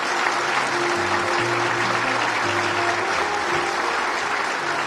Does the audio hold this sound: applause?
yes